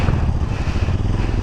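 A motorcycle comes along a jungle road on the route from Manang, its engine a loud, close, continuous rumble filling the short stretch.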